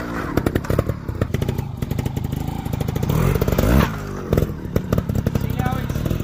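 A trials motorcycle riding into and over a log gives a choppy, revving engine with bursts of throttle and clattering, sounding close by.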